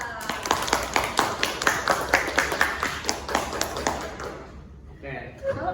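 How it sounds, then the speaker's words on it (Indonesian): A small group clapping to welcome a guest onto a school podcast, a close, rhythmic run of hand claps for several seconds that tapers off, followed by a short voice at the end. "Tepuk tangan dong Kak"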